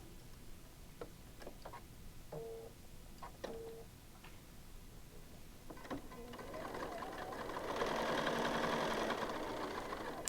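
A sewing machine stitches quilt pieces together, faint clicks and handling first, then a soft, rapid mechanical whirring hum building up near the end.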